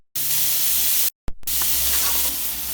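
Loud hissing sizzle of water hitting a hot oiled pan while cooking momo dumplings, cut off briefly before the crackling spatter resumes strongly.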